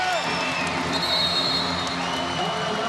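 A volleyball crowd at a 2011 Hawai'i vs Idaho women's match rises to its feet at match point, a dense, steady roar of cheering and applause that fills the whole stretch without letup.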